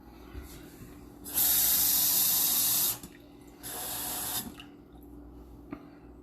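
A kitchen tap runs loudly into a pot while cooking rice, a hissing splash in two separate pours, the first longer, with quieter room sound between and after.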